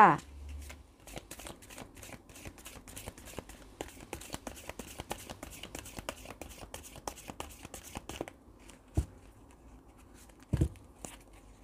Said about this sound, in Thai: ขออนุญาตสัพไพ เพื่อเปิดดวงให้กับชาวมังกรค่ะ